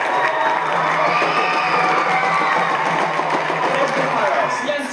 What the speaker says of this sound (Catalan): un fort aplaudiment per les